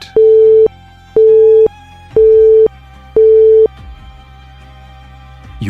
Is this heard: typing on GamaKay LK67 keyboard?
no